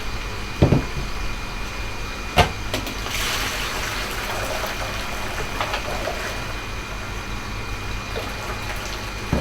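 Water pours and splashes steadily for several seconds, with a couple of sharp clanks of a pot near the start and low background rumble.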